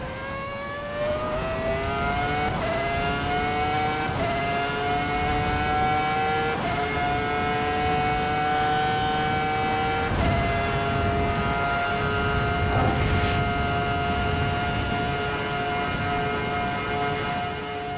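Racing simulator playing the F2004 Formula One car down a straight: a loud, sustained high-pitched engine wail that climbs through several quick gear upshifts, each marked by a brief dip in pitch before it rises again.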